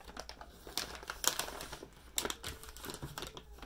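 A Ziploc-type plastic bag is handled close by, with quiet crinkling and sharp little clicks and rustles in an irregular rhythm, faint and without talk.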